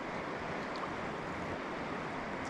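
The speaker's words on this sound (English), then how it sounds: "you see where the water goes over the rocks? Yeah. You can hear that roar from that." Steady broadband roar of the Kenai River in Alaska rushing over rocks, a continuous distant wash with no breaks, heard alone on a calm day.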